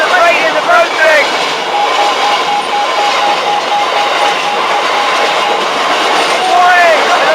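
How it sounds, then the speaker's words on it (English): A freight train rolls past at Hykeham, a steady loud clattering rumble lasting throughout, with sharp wheel squeals rising near the start and again at the end. "Warning! Another freight train is approaching!"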